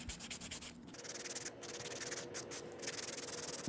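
Fingernails being filed and buffed to roughen the nail surface: close, steady scratchy rubbing strokes that run continuously without speech.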